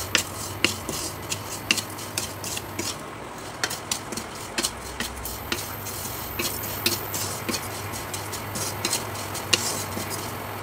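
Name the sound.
stirring lachha semai vermicelli frying in ghee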